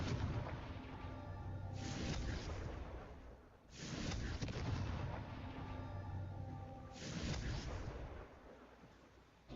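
In the Hogwarts Legacy video game, three booming Confringo blasting-spell explosions go off in sequence, each a loud rumbling burst that decays slowly before the next one strikes.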